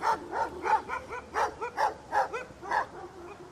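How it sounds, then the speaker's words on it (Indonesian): A dog barks repeatedly in a steady rhythm as a sound effect for a slightly eerie night scene, the yelping, whimpery barks moderately loud and heard alone. "memberikan sound effect anjing yang menggonggong untuk menggambarkan suasana malam yang sedikit horor"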